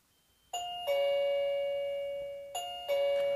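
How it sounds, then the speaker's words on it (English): An indoor HeimVision smart video doorbell chime unit rings twice, each a clear two-tone ding-dong that rings out, close and bright in a quiet room. "so this goes inside the house, so you know that if the doorbell's being rung"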